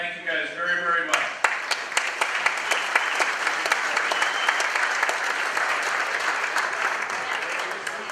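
Loud, sustained applause from an audience at an engineering contractors' public officials night, greeting event sponsors, with dense clapping running steadily after a brief stretch of voices at the start.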